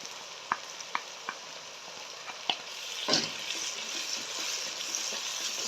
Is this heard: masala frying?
yes